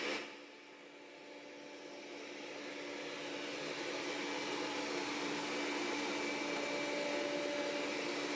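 A Roborock S6 MaxV robot vacuum cleaner runs with a steady, fairly faint whirring hum that rises slightly at the start and then holds even throughout, with no one talking.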